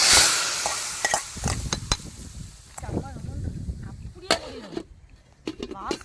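Hot tempering (tadka) poured into a fish curry, starting with a loud sizzling hiss that fades into crackles and clinks of a pot and spoon, while a person talks over it.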